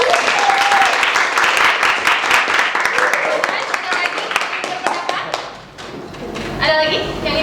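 Students in a classroom clap together in a lively burst that thins out partway through, while voices talk over and around the applause.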